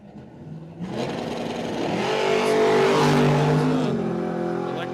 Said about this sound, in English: Cars get out and go.